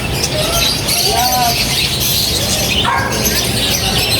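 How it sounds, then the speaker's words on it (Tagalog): Many caged birds chirping and squawking together at a pet market in Cartimar, Pasay City, a dense, busy chorus of overlapping calls with people talking nearby. "Daming ibon, no?"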